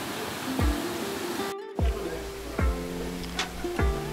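A waterfall in Irosin, Sorsogon, Philippines hisses as a steady, soft broadband rush, with a few faint sharp chirps or knocks cutting through it now and then.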